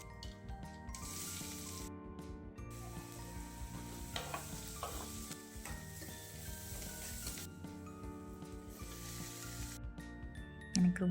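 Tomato thokku cooks in a pan, a continuous sizzle and bubbling with intermittent stirring, heard close at low level, with background music running underneath.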